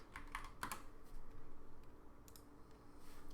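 Typing on a computer keyboard, a short burst of a few light, close clicks at the start followed by sparser taps over a faint steady background hiss.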